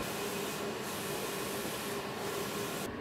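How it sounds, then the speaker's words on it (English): A Roland Versa UV LEC330 UV printer lays down white ink, CMYK and gloss in a continuous, quiet mechanical whir and rub with faint periodic shifts as the print head sweeps back and forth, with no talking. "As you can see, it's printing now."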